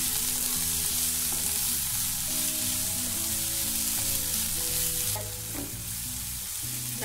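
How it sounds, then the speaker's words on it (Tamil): Chopped tomatoes sauté in a pan for an egg puff filling, a steady close sizzle of frying with occasional stirring, under a continuous low tonal hum and with no voices. "இப்போ கட் பண்ணி வச்சிருக்கிற தக்காளி போட்டு இது நல்லா வதக்கி விட்டுக்கோங்க"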